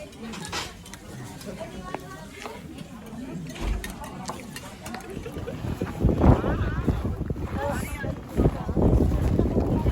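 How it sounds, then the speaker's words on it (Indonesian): Strong cold wind buffets the microphone outdoors at Jungfrau in the Swiss Alps, a rough, rumbling roar that surges louder in gusts toward the end. "Angin berhembus sangat kencang teman-teman."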